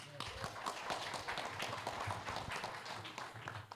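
Audience applause at a venture capital panel event, greeting Vera and her Silicon Valley Bank partners: dense, steady clapping from a room of people, with some voices mixed in.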